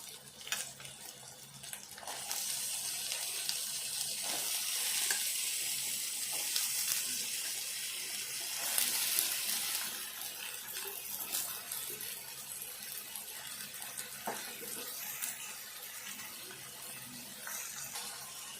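Eggplant pieces sizzle in a pan for a Telangana eggplant curry, a steady bright hiss that swells and eases with small crackles throughout, close up and loud, with no one talking.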